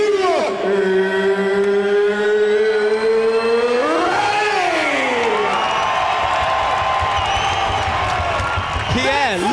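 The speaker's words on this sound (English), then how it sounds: "Pierre, listen to that crowd." A large arena crowd at a BAMMA mixed martial arts title event in Birmingham, England roars and cheers loudly and continuously beneath an announcer's drawn-out, amplified calls.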